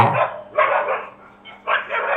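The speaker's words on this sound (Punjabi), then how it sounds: "ਕੁੱਤਿਆਂ ਦੀ ਆਵਾਜ਼ ਸੁਣ ਕੇ" A dog barks close by in three short bursts, separated by brief pauses.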